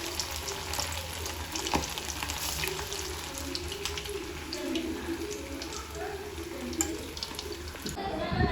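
Kebabs frying in a home kitchen pan, a steady dense sizzle running throughout with faint clatter and a brief sharp knock near the end.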